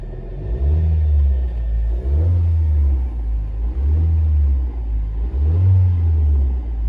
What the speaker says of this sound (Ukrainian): Газую, дивіться.